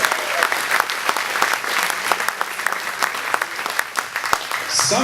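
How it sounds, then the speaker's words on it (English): Diners at an aviation dinner event applaud Bud Anderson and Dick Rutan with loud, dense clapping that carries on steadily from start to finish, with a few voices underneath. "Nice round of applause for Bud Anderson and Dick Rutan"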